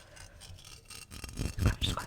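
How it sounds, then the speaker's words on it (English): A new Blue Yeti microphone is handled close up during an unboxing. A soft scratching and rubbing builds over about two seconds and grows louder toward the end, with no speech. "Scratch."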